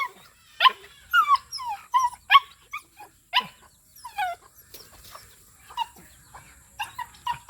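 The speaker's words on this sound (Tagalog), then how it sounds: "loko kang aso ka" A dog gives a run of sharp, close barks and yelps, some rising into whining cries, in uneven bursts over a quiet rural background with a steady high insect hum.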